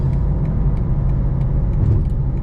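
A 2024 BMW M2 CS with a tuned transmission accelerates with a low, steady engine rumble heard from inside the car, the drone briefly dipping and resuming as it shifts gear.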